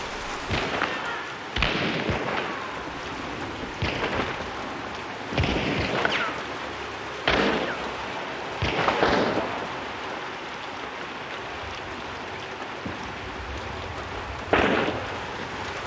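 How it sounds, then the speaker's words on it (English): Steady rain hisses throughout in the video game Hunt: Showdown, broken by repeated sharp bursts and thumps, with no talking. "Hopefully this rain covers my footsteps."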